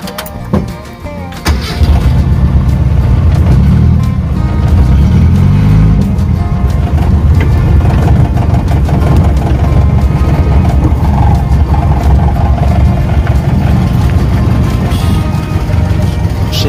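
An old used car's engine cranks briefly, catches and settles into a steady, loud idle close by, running continuously with a low rumble and no talking over it.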